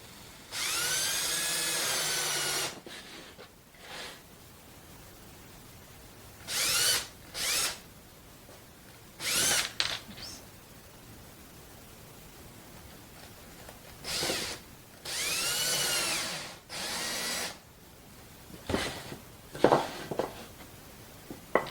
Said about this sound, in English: And then I'm going to get these screws started.